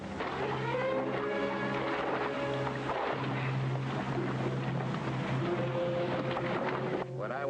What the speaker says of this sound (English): Start the engines. Cut in the special muffler.